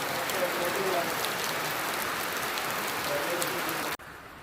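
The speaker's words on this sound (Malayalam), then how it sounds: "വന്ന് കയറിയപ്പോഴേ മഴ." Steady rain falls and patters on surfaces close by, a dense continuous hiss that cuts off abruptly near the end, leaving quieter background.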